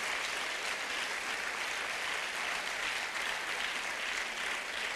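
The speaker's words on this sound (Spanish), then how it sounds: "Denle esa ofrenda de palmas al Señor Jesús." A church congregation gives a sustained round of applause during a sermon, a steady, dense wash of many hands clapping at even loudness from start to finish, with no voices.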